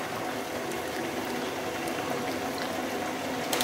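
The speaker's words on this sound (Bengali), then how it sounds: "এখানে পাস্তা সেদ্ধ করার জন্য গরম জল রেডি হয়ে গেছে" Salted water for cooking pasta bubbles at a rolling boil in a pot, a dense, steady, close churning with no speech over it.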